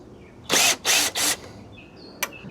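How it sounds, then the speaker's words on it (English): A power drill fitted with a 10mm socket whirs in three short, loud bursts while backing bolts out of a 2014-2019 Lexus GX460 grille, followed by a brief metallic click. "My drill is fitted with a 10mm socket, and we're going to pull out a number of bolts."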